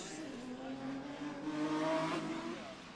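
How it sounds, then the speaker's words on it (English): A drift car engine at the British Drift Championships at Teesside surges and then eases as the driver backs off the throttle, heard fairly faint and distant with a rising and falling engine note. "You can hear him back out the throttle quite a lot."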